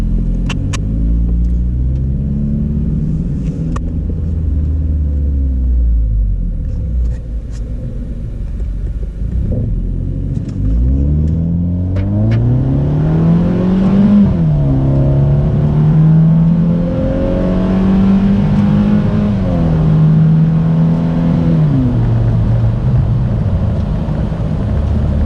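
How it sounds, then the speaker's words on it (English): A car exhaust rumbles low and then revs repeatedly toward the redline, climbing through the gears with rising pitches and brief dips at each shift, loud and continuous from inside the cabin. "we'll see how loud it gets when it goes all the way to red line through the gears"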